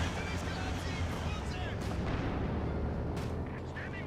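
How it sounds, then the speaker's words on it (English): Incendiary artillery barrage in the video game Company of Heroes 2: dense rumbling shell impacts and crackling bursts pile into a continuous loud roar, with a few sharper blasts rising above it. "Plus also there's also incendiary barrage as well."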